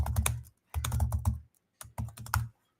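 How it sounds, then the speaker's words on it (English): Fingers type on a computer keyboard in quick, close clattering bursts: two runs of keystrokes, a short pause, then a final shorter flurry. "I'm going to go ahead and type this in real quick."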